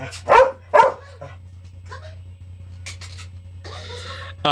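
A dog barks twice in quick succession, sharp and close, then softer whimpers and yips follow over a low indoor hum.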